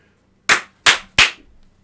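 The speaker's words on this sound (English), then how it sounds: "Yeah, let's do a clap." Podcast hosts clapping their hands to sync the recording: three sharp, loud, close claps in quick succession, each ringing briefly into the room, with no speech between them.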